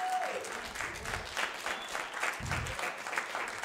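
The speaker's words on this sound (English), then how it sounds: "let's give a round of applause for Reverend Sheree for being back" A church congregation gives a warm round of applause for a returning reverend, a dense patter of many hands clapping steadily for several seconds, fairly close, with a few voices faintly mixed in.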